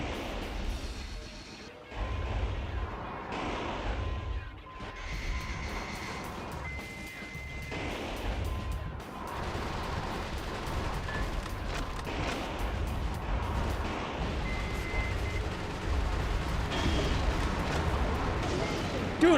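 Repeated heavy explosions and crashing blasts from bombs in the mech action game Metal Wolf Chaos, loud and dense throughout with a busy battle din, beeping and engine noise, while a voice talks over the action.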